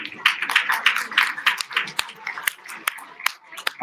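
An audience at a knowledge-and-practices gathering gives a final round of applause: dense clapping that thins into scattered, sharp individual claps, close and fairly loud, with a voice heard alongside.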